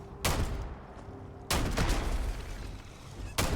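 Pistol shots in Starfield: three sharp, loud reports spaced about a second or more apart, each a broadband crack with a decaying tail over a steady game ambience, no speech.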